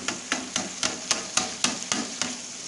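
A spoon scraping against a pot while chicken curry with red chilli, turmeric, black pepper and salt is stirred, about nine evenly spaced scrapes in a steady rhythm, close and fairly soft.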